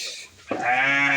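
A Jawa Randu goat lets out a single loud, close bleat that wavers and holds for about a second.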